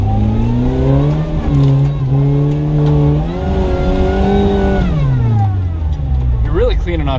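An off-road rig revs hard on a muddy ledge, its engine rising and falling loudly and continuously as the tires spin in the mud, with people talking over it.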